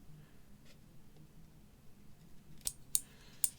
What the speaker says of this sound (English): You can do anything with a pair of scissors.